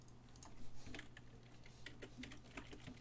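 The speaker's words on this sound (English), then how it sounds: "This game makes you play with an American keyboard layout, and it fucks me over every time I want to type something." Rapid keystrokes on a computer keyboard with an American layout, fast irregular clicking over a steady low hum, close and moderately quiet, no talk.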